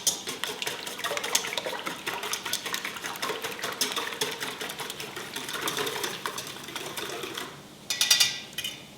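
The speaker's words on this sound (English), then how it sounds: "So I have my 5 eggs in the bowl and I'm going to whisk them" Five eggs whisked in a bowl, a fast continuous rattling clatter of the whisk against the bowl lasting several seconds, close and steady, with a louder flurry near the end.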